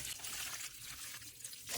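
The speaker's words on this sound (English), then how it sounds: "Here goes the first pour." Homemade chicken broth pours into a baking dish with a soft, steady liquid splash and trickle, faint and close, lasting the whole moment with slight swells.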